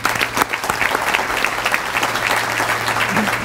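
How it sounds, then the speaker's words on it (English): Audience applause at a high school sports winter banquet, after a keynote talk: steady, dense clapping from a large crowd that fills the room and holds at an even level throughout, with no voices rising above it. "Let's give another round of applause for a great talk."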